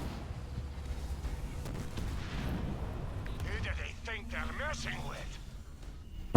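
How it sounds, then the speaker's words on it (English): Kodiak artillery shelling in Halo Wars 2, low rumbling booms and blasts rolling under steady commentary, moderately loud with a sharper burst right at the end. "He's going to try and take some of these Kodiaks out, but they are shelling him as he runs up."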